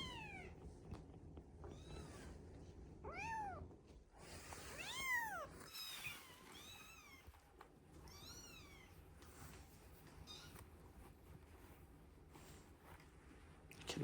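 Several kittens mew repeatedly in short, rising-falling cries, some overlapping, over a continuous rustle and scratching with faint purring, fairly close but quiet overall.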